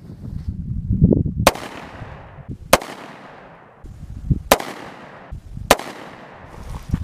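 Four sharp, loud gunshots from a cheap derringer pistol fired at a target ring out at irregular intervals, each a sudden crack with a short decaying tail, with low rumbling handling noise between shots.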